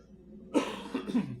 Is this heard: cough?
yes